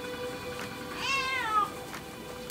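A cat meows once, a drawn-out rising and falling cry, close by during a lime sulfur dip in water, over a low steady background.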